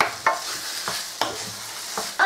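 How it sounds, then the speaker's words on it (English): Chicken sizzles loudly in a hot pan on high heat, a steady frying hiss broken by several scraping stirs at irregular intervals. "I carry on frying it on high heat."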